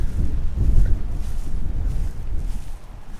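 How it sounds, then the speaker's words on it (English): Strong wind buffeting a microphone outdoors in the aftermath of Hurricane Irma, a steady low roaring rumble with loud gusts that swell and ease without a break. "we're going to pick up a lot of wind here, so I don't know how well you can hear me. Wind's still blowing pretty good."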